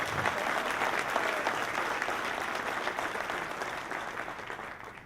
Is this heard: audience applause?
yes